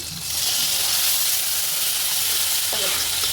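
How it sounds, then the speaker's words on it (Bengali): Green chili, cumin, ginger and garlic pastes hit a hot pan for a chicken curry, giving a loud, steady close-up sizzle that holds throughout, with a brief stirring scrape near the end. "কাঁচামরিচ বাটা জিরা বাটা আদা বাটা রসুন বাটা একটু পেস্ট করি হ্যাঁ এই দিয়ে দিলাম"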